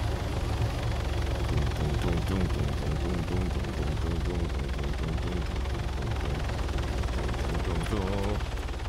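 A helicopter sets down in the ARMA 3 Exile mod combat game, its loud, steady rotor and engine drone filling the scene with voices talking over it throughout.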